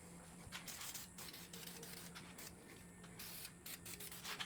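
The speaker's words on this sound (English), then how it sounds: "we'll get a quick spritz of the spray lacquer" A continuous hissing spray from an aerosol can of lacquer onto stained wood, steady and fairly quiet, with a low hum and brief bursts of brighter hiss.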